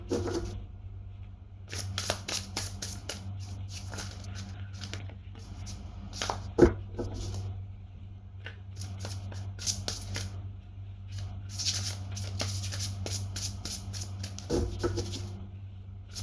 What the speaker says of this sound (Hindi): करती हूँ कार्ड्स की शफलिंग।